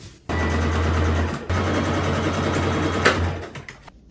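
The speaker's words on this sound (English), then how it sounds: "now we can sew a straight stitch along the dart that we marked on both sides." A sewing machine runs a straight stitch along a marked dart on thrifted pants. The motor hums steadily and loudly, close by, with a brief pause near the start and a few clicks as it stops.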